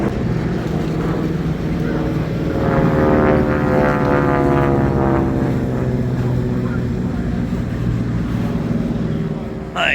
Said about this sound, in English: We got planes flying around.